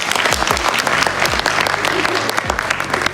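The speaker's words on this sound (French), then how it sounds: "Bravo, on peut l'applaudir s'il vous plaît?" An audience at a club event applauds a guest, loud, dense clapping close by that holds steady for a few seconds with some crowd noise and a few low thumps underneath.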